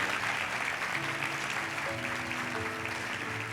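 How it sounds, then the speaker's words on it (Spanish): A church congregation gives a sustained round of welcoming applause for visitors at a Sunday service, a dense, even wash of clapping that holds steady from start to finish while a faint tone hums underneath. "Queremos darles un aplauso especial de bienvenida en esta mañana."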